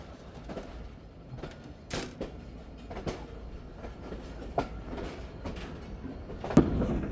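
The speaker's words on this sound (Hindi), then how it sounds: "और ट्रेन हमारी इंटर हो रही है दोस्तों प्लेटफार्म नंबर" The 48Dn Rehman AC train rolls into platform 2 at Hyderabad Junction with a steady close rumble, rhythmic wheel clacks and occasional squeaks and knocks, and no one speaking.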